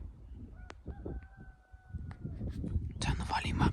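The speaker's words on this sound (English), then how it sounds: "Turn the volume up, you can hear the chickens." Chickens crow faintly in the distance at dawn near a beach. A rooster's long, drawn-out call rises over soft background noise, while a person talks through most of the clip.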